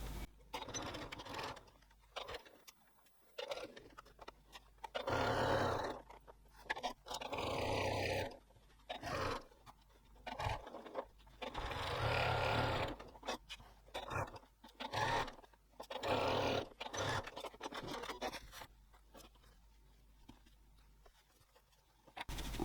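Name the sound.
sewing machine top stitching with a blind hemming foot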